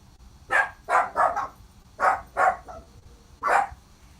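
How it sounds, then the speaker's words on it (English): Several dogs barking in a home, seven sharp, loud barks grouped in uneven bursts with short pauses between them, close by and with no voices over them. "Go outside and bark. Now they're all barking."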